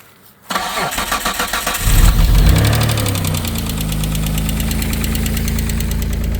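A 1995 Dodge Stealth that has sat for years cranks on a weak, half-dead battery and catches quickly, settling into a loud, steady idle with a faint lifter tick.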